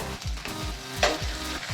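Tomatoes added to a pan of golden fried onions sizzle and fry steadily, with repeated stirring scrapes and one brief louder clink, close and moderately loud with no talking.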